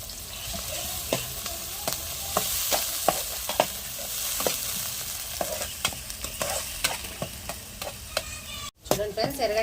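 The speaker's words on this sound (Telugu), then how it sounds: "ఎర్రగడ్డలు అయితే మంచిగా ఎగినాయి కదా." Onions and curry leaves frying in hot oil, a loud, continuous sizzle close by with repeated sharp ticks and scrapes of a spoon stirring the pan, no talking.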